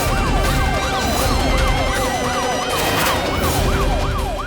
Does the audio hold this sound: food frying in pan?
no